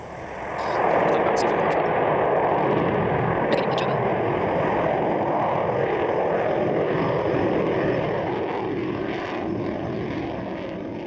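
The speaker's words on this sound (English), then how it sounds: "Electron has lifted off from the pad at Launch Complex 1 and has commenced its 9-minute journey to orbit." A Rocket Lab Electron rocket lifts off from the pad at Launch Complex 1, its engines building within a second into a loud, continuous broadband roar that holds steady and only eases slightly near the end.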